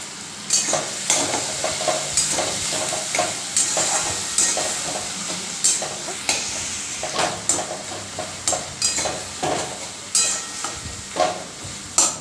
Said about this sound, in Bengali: এইভাবে একটু খুন্তি দিয়ে নেড়ে চেড়ে দিতে হবে।